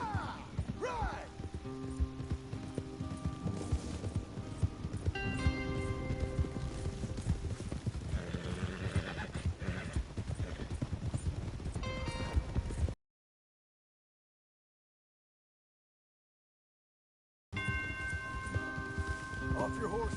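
Horses trot with steady clip-clop hoofbeats in a game, with occasional neighs, music and voices layered on top, then a sudden dropout to silence before the sounds resume.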